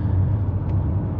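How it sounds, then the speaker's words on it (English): Steady low road rumble inside a 2024 Ford Escape Platinum 2.0L AWD cruising at about 51 mph, a constant muffled drone with a faint hiss above and no wind noise or talk. "Now we're doing about 51. No wind noise, just a little bit of road noise."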